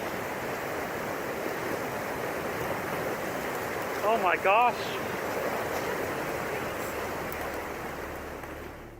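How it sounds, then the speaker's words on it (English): A massive wave of ice and water rushes down a river and under a bridge during a dam failure, a loud steady roar throughout, with a brief excited exclamation from a man partway through. "A massive wave of ice and water comes rushing down the river and under a bridge."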